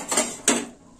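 A metal lid is set onto a pot of simmering red lentil dal with papaya: two quick clinks, the second sharper, close and clear in a quiet kitchen.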